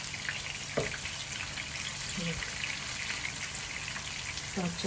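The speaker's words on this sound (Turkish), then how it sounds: "kalanları kızartalım arkadaşlar" Steady sizzling of mixed foods frying in hot oil, a continuous crackling hiss with occasional faint clinks and a voice in the background.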